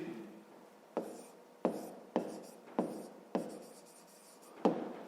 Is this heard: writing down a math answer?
yes